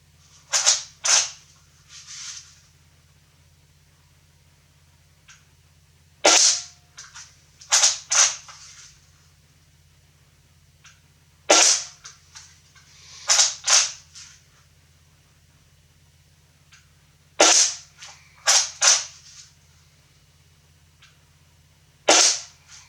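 Walther WA2000 replica airgun fired repeatedly, sharp snapping shots in pairs and clusters separated by pauses, crisp and close over a faint steady hum.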